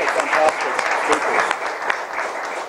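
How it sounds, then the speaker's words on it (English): An audience applauds the speakers at a Dallas Peace Center event, a dense, steady wash of clapping filling the room without pause. "Let's give them another round of applause."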